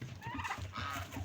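Farm geese honking and gabbling close by after being let out of their coop, a busy overlapping chatter of nasal calls with no talk.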